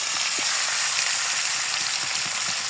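Fish sizzles steadily in hot oil, a loud, dense and even frying hiss that runs throughout with small popping crackles.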